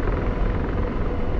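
Continuous heavy rotor thrum and engine roar from a Kiowa helicopter in flight in the DCS simulator, loud and unchanging over a brief stretch.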